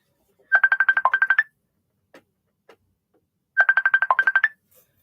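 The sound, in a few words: computer ringtone ringing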